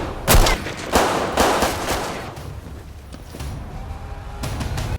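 Gunfire from a Steven Seagal movie shootout: a rapid burst of loud cracking shots at the start, then scattered single shots and echoing reports over a rumbling background.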